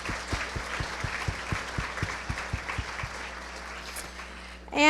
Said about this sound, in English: So let's give a round of applause to our in-kind sponsors too.